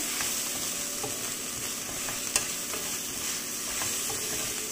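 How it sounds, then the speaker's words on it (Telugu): Ginger garlic paste sizzles with onions in a pan for a tomato moringa curry, a steady close frying hiss with one brief louder scrape partway through and no talking. "ఆనియన్స్ అవి ఫ్రై అయిన తర్వాత కొంచెం అల్లం వెల్లుల్లి పేస్ట్ వేస్తానని నేను ఇప్పుడు వేసాను"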